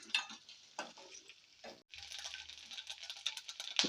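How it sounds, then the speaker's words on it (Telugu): Coconut pieces and cashews frying in oil in a pan make a close, crackling sizzle, broken by stirring scrapes and brief pauses, then a steady fizz with light pops. "కొబ్బరి ముక్కలు ఎర్రగా వేగిన తర్వాత అప్పుడు జీడిపప్పు వేసుకున్నామండి"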